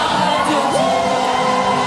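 A church congregation at a revival service cheering loudly, a dense crowd roar of shouts, whoops and triumphant cries filling the whole moment without pause.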